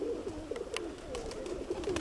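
Several pigeons perched outdoors in a west wind give soft, repeated low coos, a steady murmur of overlapping calls close by with a faint background hiss and no speech.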